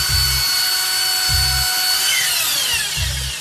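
Power drill boring into a suspect parcel during an airport customs inspection in Colombia, a steady motor whine with low rumbling bursts, loud and close, running alone without speech.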